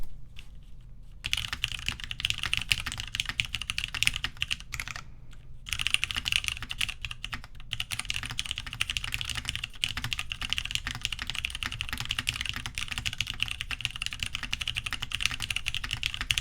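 Someone types steadily on a Manta mechanical keyboard build with tactile switches and MT3 keycaps, producing dense, close clacking keystrokes with brief pauses between bursts.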